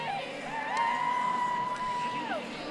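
Crowd cheering and whooping in the arena at the Rio 2016 artistic swimming duet final, a steady roar with high whistle-like calls rising and falling over it.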